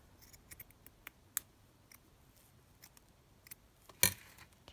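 Scissors snipping paper for a junk journal topper, a scatter of quiet, close cuts and clicks spread across the moment, with one sharper snip near the end.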